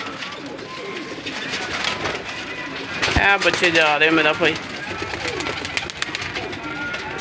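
Pigeons coo in a loud, close burst midway through, with softer cooing around it, while someone talks over them throughout at a pigeon seller's loft.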